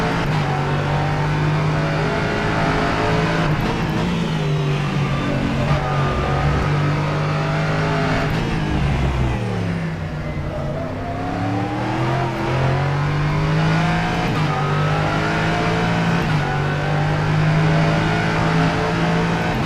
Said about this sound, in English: Just going to be quiet and let you guys enjoy the sounds of the car.